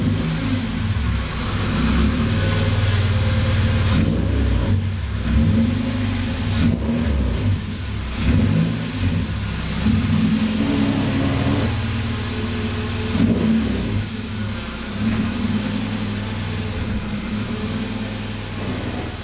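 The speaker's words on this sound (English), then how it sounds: "Alright, well, it's running. Let me try and back it out of the garage," A project car's KA24DER engine runs continuously as it backs out of a garage, a steady, rumbling idle with occasional throttle blips and revs, close and loud throughout.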